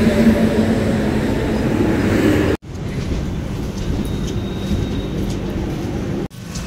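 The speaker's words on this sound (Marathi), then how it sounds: "आता ट्रेन आल्या." A train pulling into a station with a loud, steady rumble and wheel roar filling the scene, cut by two abrupt breaks, heard close with no talk.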